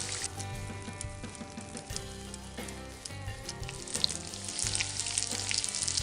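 Pepperoni slices fry in a pan with a steady, close crackling sizzle, with occasional stirring and pops and no voices.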